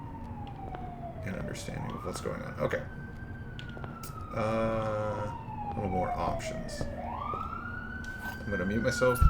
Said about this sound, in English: Sorry about the siren.